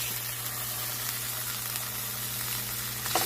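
Tuna steaks sear in a hot pan, a steady close hiss of sizzling oil holding evenly throughout with a low hum underneath and a faint clatter at the end.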